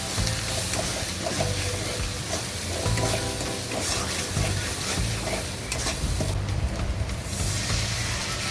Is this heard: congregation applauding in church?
no